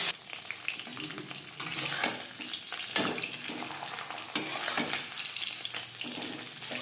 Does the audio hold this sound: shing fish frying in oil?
yes